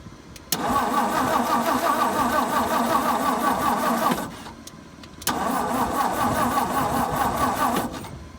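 A 1963 Ford F100 engine cranks over without catching, two long bursts of steady, rhythmic starter churning separated by a short pause, loud and close with no talking.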